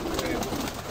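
Andijan pigeons give a soft, steady cooing murmur close by, the low throaty calls blending into a continuous dense texture for about a second.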